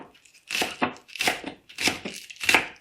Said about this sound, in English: Okay, now it's green onion. We're going to cut it into small pieces.